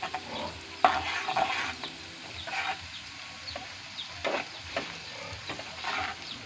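Meat browning in a pan for a simple home-cooked Visayan dish, a steady close sizzle broken by sharp scrapes and clinks of stirring, with no talk.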